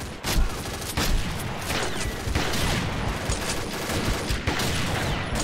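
Rapid bursts of gunfire from the online shooter Combat Arms during an Arms Race round, dense overlapping shots and automatic fire running continuously with sharp transients.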